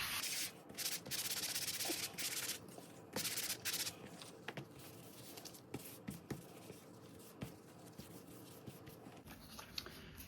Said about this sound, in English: I'm going to also sand the edge of this just to roughen it up a little bit